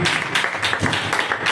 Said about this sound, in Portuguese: Aplauda ao Senhor com alegria pela vida dele.